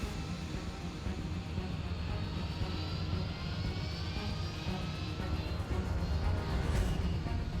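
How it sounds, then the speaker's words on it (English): A heavy DC-10 jet with three General Electric CF6 engines roars steadily on its takeoff roll down a paved runway, a loud sustained rumble that builds slightly in intensity toward the end. "As Davis applied power to the aircraft's 3 General Electric CF6 engines, the jet initially laboured under its massive weight before starting to accelerate along 13 right's paved surface"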